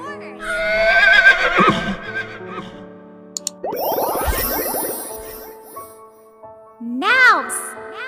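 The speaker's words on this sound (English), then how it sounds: "Horse." A horse whinnies loudly in a children's animal-identification lesson, a shaking neigh that rises and falls, followed by a second shorter whinny, with a voice and cartoon sound effects around it.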